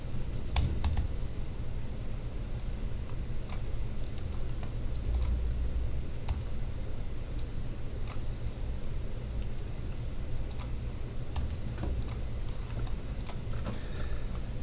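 Typing on a computer keyboard while entering text in an editor window, a soft irregular run of key clicks spread over a quiet, steady background hiss.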